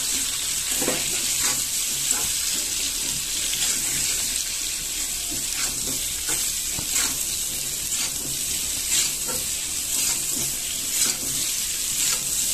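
Potatoes and ridge gourd frying in hot oil, a continuous close sizzle with crackling bursts and soft clatter throughout, no talking.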